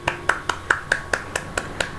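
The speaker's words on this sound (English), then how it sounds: "Give a huge round of applause." Sharp, evenly spaced claps, about ten in two seconds, at a school event, steady and fairly close with a bright snap to each one.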